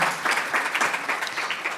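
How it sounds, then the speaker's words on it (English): Audience applause at a Dr. King Unity Luncheon, a brief, moderately loud patter of many hands clapping together with no voices over it. "Can we give a round of applause for everyone?"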